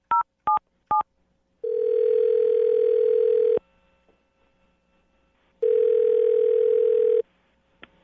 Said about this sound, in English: I'm going to dial her phone number right now and get her on the phone